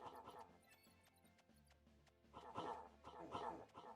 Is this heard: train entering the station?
no